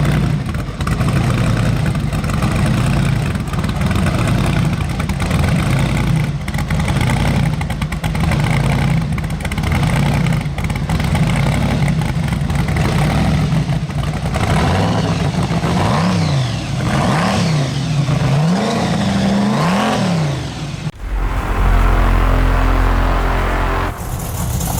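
A GM-badged Suzuki Sidekick-based compact SUV engine runs loud and continuous, with repeated rising and falling revs toward the end before cutting off into a lower idle-like rumble; no talking.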